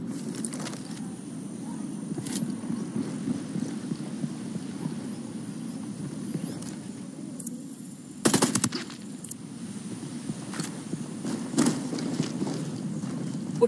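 Gunfire in the video game Ghost Recon Wildlands: a sharp burst of shots around the middle stands out against steady low in-game rumble and ambience, with a few fainter reports scattered before and after.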